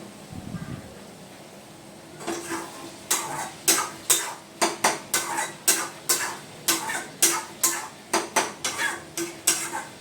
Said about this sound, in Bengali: লাউটা নাড়ছি, এই যে লাউ দেখো বন্ধুরা।